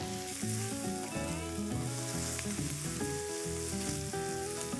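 Onions frying and being tossed in a pan on high flame, a constant sizzle beneath louder tonal background music, with no talking.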